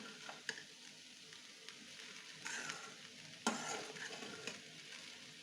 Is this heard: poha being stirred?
yes